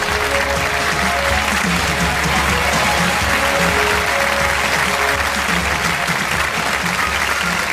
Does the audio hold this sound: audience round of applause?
yes